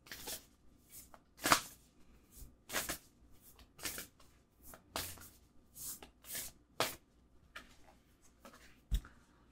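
A deck of oracle cards is shuffled by hand, giving a run of quick, crisp riffles and soft slaps close by, spaced in irregular bursts over near silence.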